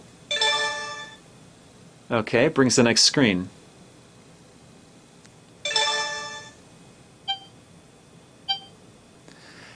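A phone used as a remote for a Sony SMP-N200 streaming media player plays its app sounds: two harmonic tones, then two short clicky blips, with a brief spoken remark in between.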